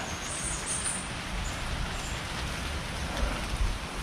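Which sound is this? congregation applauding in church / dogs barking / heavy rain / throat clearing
heavy rain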